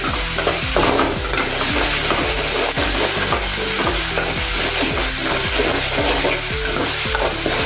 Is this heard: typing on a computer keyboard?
no